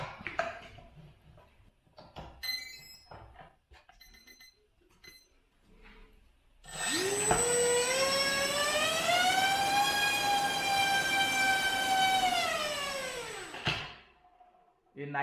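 A 2500 KV brushless motor on a 4S battery runs a thrust test, preceded by clicks and scattered noise, then spools up into a loud rising whine that holds steady for about seven seconds before cutting off abruptly.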